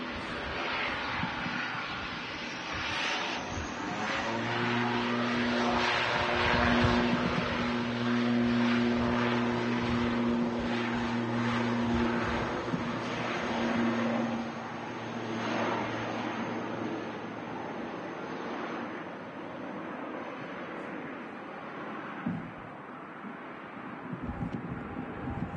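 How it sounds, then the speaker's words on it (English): An ATR 72 turboprop airliner takes off at Manchester Airport, its engines a loud sustained roar with steady propeller tones that swell and then fade with wind noise. "Smooth rotation there from the ATR 72 Airliners."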